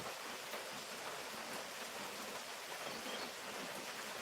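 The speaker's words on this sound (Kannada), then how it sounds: "ಜೋರು ಮಳೆ ಬರ್ತಾ ಉಂಟು" Heavy rain falls in a steady, dense hiss that fills the whole stretch without pause. No voices are heard over it.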